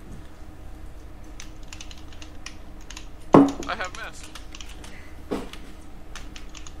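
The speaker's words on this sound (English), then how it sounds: "Rask, silence your keyboard." Rapid computer keyboard typing clatters steadily close to the microphone, with a louder thump partway through and occasional speech over the keys.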